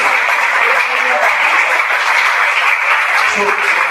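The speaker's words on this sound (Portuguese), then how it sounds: "Dê uma salva de palmas para o Senhor." A church congregation gives a round of applause, a steady, dense wash of clapping that holds even and loud from start to finish.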